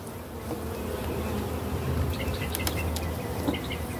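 Honeybees buzz steadily around an open backyard hive during a queen check, a dense low drone that holds throughout with a few faint birdcalls and small clicks on top.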